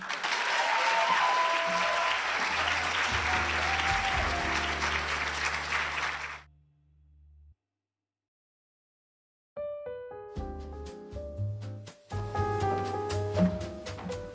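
Hearty audience applause welcoming a speaker at a conference, loud and continuous for about six seconds before cutting to silence, followed by a tonal musical passage.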